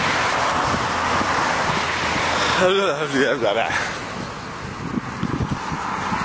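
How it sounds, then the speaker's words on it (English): Cold, gusty wind rushes across the microphone as a steady broadband roar, with a short spoken word in the middle. "But it's windy too."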